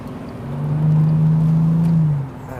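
A 2007 Bentley Continental GTC drives through a 90-degree right turn, its engine rising to a steady, smooth hum for about a second and a half before easing off.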